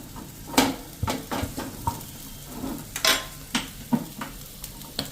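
Ghee sizzles on a dosa on a hot iron griddle, a faint steady crackle broken by repeated sharp scraping and tapping strokes from a spatula.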